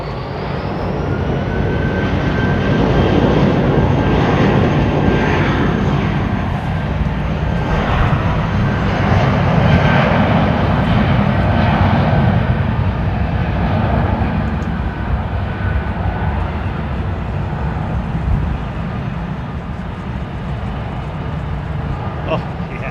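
Japan Airlines Airbus A350 at London Heathrow Airport, a steady, loud broadband jet engine roar that holds for the whole stretch with a faint high whine. Talk runs over it throughout.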